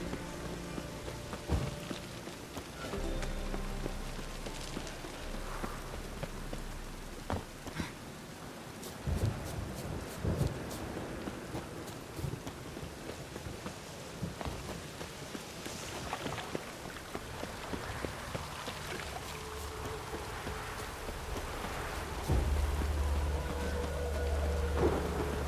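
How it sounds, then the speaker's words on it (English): Rain and thunder in the video game The Witcher 3, a steady hiss of rainfall with deep rumbling thunder rolls and sharper cracks, continuous and fairly loud with no talking. "Rain, I like rain."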